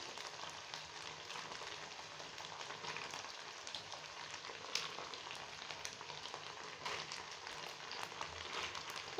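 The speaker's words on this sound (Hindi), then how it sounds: "अब मैं इसमें टमाटर डालूंगी।" Tomatoes dropped into a mutton karahi sizzling in oil, a steady close crackle and hiss of frying with faint stirring scrapes throughout and a sharper burst at the very end.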